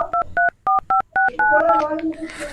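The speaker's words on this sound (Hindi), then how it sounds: "अब बतावा गजोधरा ले फोन लगाई" A telephone number is dialed, a rapid run of loud, clipped DTMF keypad beeps in quick succession, followed by overlapping tones and a brief burst of noise.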